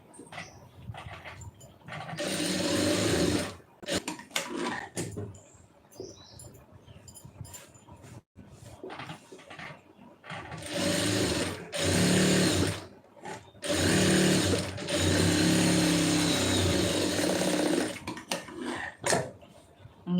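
A sewing machine stitches a lining piece in several bursts of whirring motor noise, close and fairly loud, separated by short pauses.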